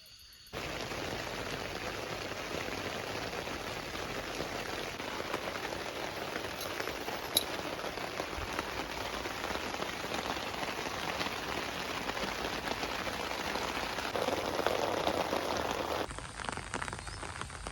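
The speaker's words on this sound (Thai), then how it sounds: "เจอฝนหนักตั้งแต่ตีห้าครับ" Heavy early-morning rain drumming on a camping tent in Kaeng Krachan National Park, Phetchaburi: a dense, even hiss of drops that starts abruptly and holds steady at moderate level, with no talking.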